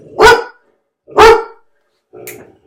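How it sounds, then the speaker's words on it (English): A dog barks three times, evenly spaced and loud; the last bark is shorter and weaker, with silence between them. "as you can hear, my dog is barking because there's people outside"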